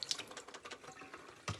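Vinegar and water poured out of a diffuser reservoir into a sink, a soft, close trickle and splash of liquid lasting a moment, ending with a brief louder splash.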